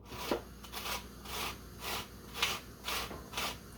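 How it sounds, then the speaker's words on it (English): Lemon being zested on a metal box grater, with rhythmic rasping strokes repeating about every half second, close and fairly quiet, with no talking. "So we are going to use the trusty box grater here."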